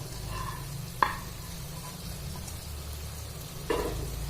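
Fried duck pieces tumbled into a simmering masala and stirred in a pan, giving a steady low sizzle with a couple of sharp spoon-on-pan clinks, close up and with no talking.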